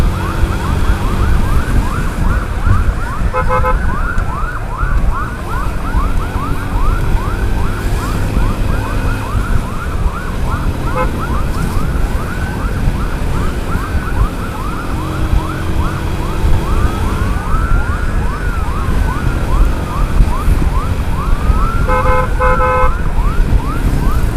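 An ambulance siren wails continuously in rising and falling sweeps while escort vehicles speed alongside it, loud and close over steady engine and road roar, with no talk.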